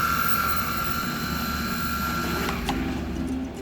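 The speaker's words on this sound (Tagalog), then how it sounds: "Drone is working." A cheap toy drone runs with its small propellers buzzing in a steady, continuous whine, close and fairly loud, tapering slightly near the end.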